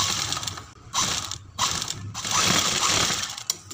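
A sewing machine stitches piping along the buckram edge of a kurti neck, loud close mechanical whirring in several bursts separated by brief pauses, with no talking.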